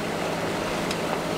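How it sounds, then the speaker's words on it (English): Sailboat motoring under engine power into a headwind, a steady droning engine hum mixed with wind and water wash, constant and unbroken. "we're motoring into a headwind"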